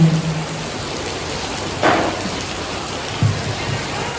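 Heavy rain pours down in Delhi during an outdoor shoot, a loud, continuous hiss of rain on surfaces with a couple of brief bumps, no talking heard.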